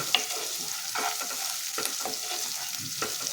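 Crushed garlic and chili sauté in a pan, giving a soft, steady sizzle with intermittent stirring scrapes and light clinks, close and fairly quiet, with no talking.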